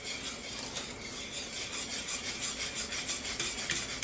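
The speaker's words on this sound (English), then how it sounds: "I always whisk it really hard here" Hard continuous whisking of a thickening butter pecan custard pie filling, a dense, close scraping and swishing with a quick pulsing rhythm, steady throughout and without any talk.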